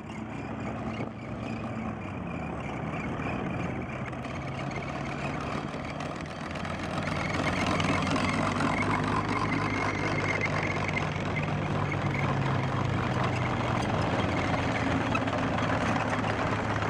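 Restored M29 Weasel amphibious tracked military vehicles travel in a convoy along rural Iowa back roads, producing a continuous heavy engine drone with track rumble that grows louder midway and holds steady.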